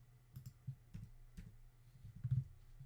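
Computer keyboard keys clicking in a run of light, irregular taps at close range, with no talking.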